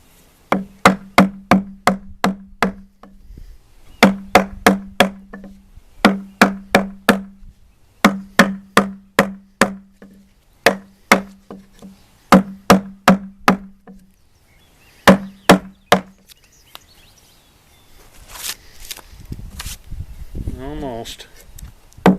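Steel chisel driven by repeated mallet blows into a timber scarf joint, sharp rhythmic chops in quick bursts of four to six strikes separated by short pauses, close and loud, followed by some scraping and shuffling.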